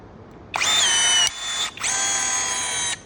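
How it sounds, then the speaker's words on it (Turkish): Hais Pro cordless 21 V rivet gun sets a rivet through drilled sheet metal with a nut beneath: two loud, steady motor whines, the first about 0.7 s long, a brief pause, then a longer run, with no talking. "perçimleyelim bakalım performansı nasıl"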